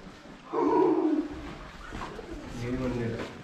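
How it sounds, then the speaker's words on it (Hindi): Pigeons coo inside Bhangarh Fort in India, with a loud, throaty coo up close followed by softer cooing. People's voices mingle with the birds. "ये कबूतर डरा रहे हैं बस और कुछ नहीं लोगों को"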